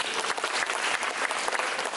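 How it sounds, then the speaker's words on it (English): Enthusiastic applause from an audience at an engineering-industry innovation day, dense steady clapping throughout with no voices standing out. "Shall we give them another round of applause?"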